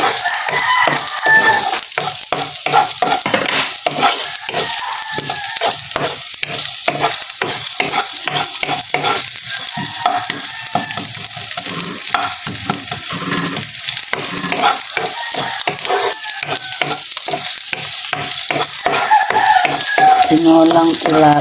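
Ginger, garlic and onion sautéing in a pan for tilapia tinola, a loud steady sizzle broken by frequent scraping ladle strokes, with a rooster crowing and occasional voices in the background.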